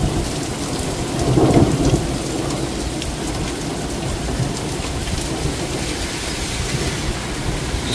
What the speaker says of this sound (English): This has got to be a once in a 10-year storm.